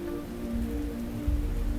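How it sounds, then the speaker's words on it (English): Soft rain falls in the video game Fantasian: Neo Dimension, a steady, gentle patter over a low sustained musical hum, even and quiet throughout with no talking. "At some point, the rain began to fall once more."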